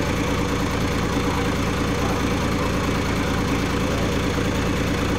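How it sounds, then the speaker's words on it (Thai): A car engine idling smoothly, heard close up as a steady, even mechanical hum with no revving or pauses, filling the whole stretch on its own. "เสียงเครื่องนิ่มๆเลยครับอันนี"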